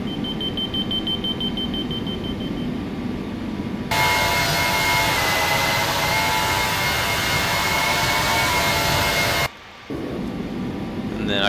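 Jet airliner engines at climb thrust in a flight simulator game, a loud steady broadband roar with a faint whine, rising abruptly about a third of the way in and dropping out briefly near the end before resuming.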